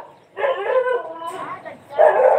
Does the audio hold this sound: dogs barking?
yes